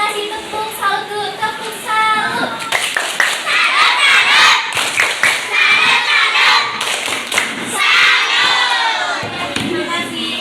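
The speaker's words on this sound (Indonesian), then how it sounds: "kita kasih tepuk salut" A small group claps and cheers after a presentation in a teacher coaching session, loud and close, mixed with shouts and excited voices.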